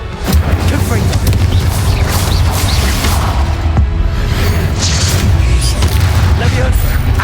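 A Confringo blasting spell goes off in Hogwarts Legacy amid a loud, dense stream of booms, whooshes and combat noise with voices mixed throughout.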